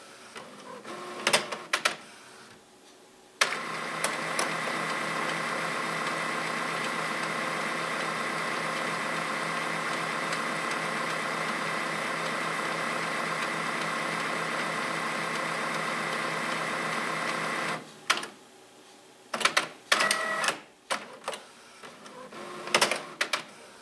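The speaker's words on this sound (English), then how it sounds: "It's now pulled in some paper." A Microsoft Surface RT-connected printer whirs in a steady mechanical drone for about fifteen seconds, bracketed by short clicks and clunks of paper being fed at the start and end.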